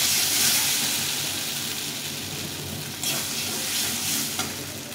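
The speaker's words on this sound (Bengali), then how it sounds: "আলু আর মশলাটাকে ভালো করে একটু কষিয়ে নিতে হবে।" Fried potatoes and spices sizzling loudly in a pan for a duck egg curry, a dense steady hiss broken by a couple of stirring scrapes.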